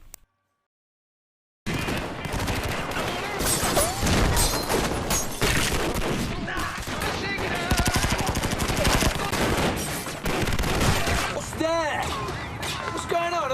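Heavy gunfire from an action-film shootout, with a dense, loud barrage of machine-gun bursts and blasts that runs almost without a break after a short silence, mixed with voices.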